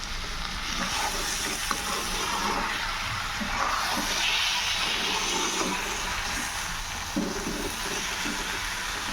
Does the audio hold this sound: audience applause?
no